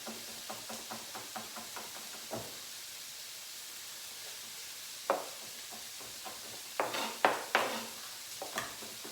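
Chef's knife slicing and mincing garlic cloves on a cutting board, a quick run of light, regular taps followed by scattered louder chops with pauses between, set against a faint kitchen hiss.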